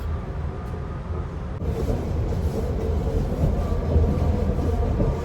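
A train rolls steadily toward Paris. It gives a continuous low rumble and rattle that grows a little louder midway, with no voices.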